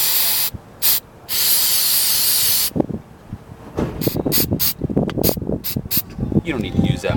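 Several sharp hissing bursts from an aerosol cleaner can spraying the tiny wires of a car mass air flow sensor, one long blast among short ones, followed by rustling and handling noises close up.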